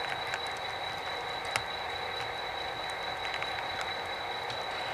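A model train moves a traveling boxcar during a switching session on a Rock Island layout, giving a steady low rolling rumble with light metallic clicks and a thin constant whine throughout.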